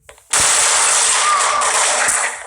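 A loud sustained burst of automatic gunfire in a video game rattles on for about two seconds straight after a brief quiet start, dense and harsh, fading slightly at the end.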